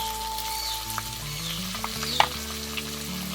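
Ground spices with turmeric, chilli powder and salt fry in a pan for fish head curry, a brief steady sizzle with a few stirring knocks, under quiet background music.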